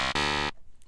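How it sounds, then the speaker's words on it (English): Narrow, hollow square-wave synth tone built in Reason 6.5, a short buzzy note cut by a tiny dropout and ending abruptly after about half a second. "So instead of like a very wide synth, we're just gonna make a very narrow type of sound."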